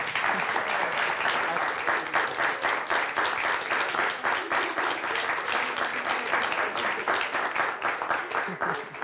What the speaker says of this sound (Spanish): Despidamos con un fuerte aplauso.